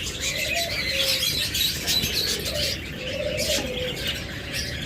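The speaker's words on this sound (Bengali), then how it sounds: "বিভিন্ন কালার বিভিন্ন কোয়ালিটির বাজরিগার পাখি রয়েছে" Budgerigars of many colours chirp and twitter steadily at a bird seller's stall, a dense, continuous chatter of small birds close by with no talking.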